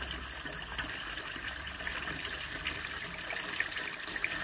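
Water pours and gushes steadily into a partly drained garden pond with fish as it is refilled, a continuous splashing rush with no voices.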